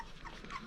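Puppies at feeding time whimper and pant softly in a steady, faint, continuous wash of small whines and breathing, with no voices.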